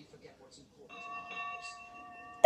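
A Thomas the Tank Engine toy or ride bell for the Toby engine rings out in a sustained tone that sets in about a second after a quiet start, with a sharp louder strike at the very end.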